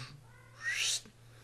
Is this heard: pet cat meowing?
yes